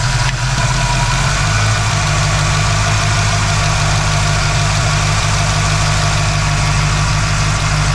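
A car engine drones steadily with a deep, constant exhaust hum, loud and close, unchanging throughout while cruising in 5th gear at around 60.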